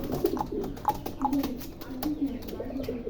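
Crested fancy pigeons coo indoors on a farm, a soft repeated throaty coo in short close pulses under light room noise, with rain keeping them inside.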